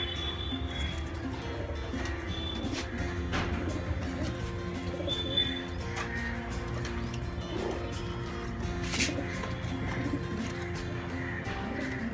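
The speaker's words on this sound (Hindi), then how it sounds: "ये जो है 10 से 12 घंटे उड़ने वाले कबूतर हैं" Madrasi flying pigeons coo softly and repeatedly over a steady outdoor background, with a few faint chirps scattered through.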